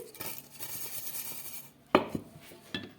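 Spoon clinks and scrapes in a bowl as paneer is stirred together with a little sugar, soft rubbing sounds followed by a few sharp knocks against the bowl.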